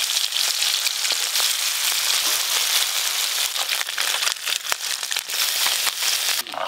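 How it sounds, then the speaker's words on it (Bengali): Mourola fish fry lightly in hot oil in a pan, a steady dense sizzle and crackle with scattered sharper pops, close and continuous throughout. "এই মাছ ভাজতে খুব বেশি সময় লাগে না, এপিট ওপিট হালকা করে ভেজে নিয়ে তুলে নেব।"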